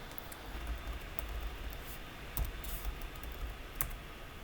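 Keystrokes on a computer keyboard, typing out a short question to ChatGPT: quiet, scattered clicks and taps at close range, a few sharper strikes standing out, with no voice over them.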